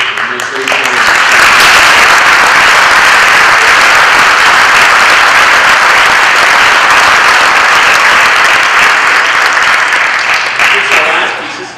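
A winter school band concert audience applauds, a loud, sustained wash of clapping from a full room that runs unbroken for over ten seconds, with a few voices at the very start.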